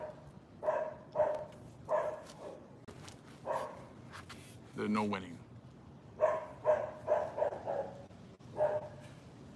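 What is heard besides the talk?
dog barking behind speaker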